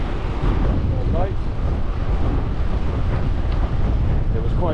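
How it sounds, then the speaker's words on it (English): Gusty outdoor wind buffeting the microphone on a rainy November day, a loud continuous low rumble with fluctuating bursts throughout. "It was quite gusty"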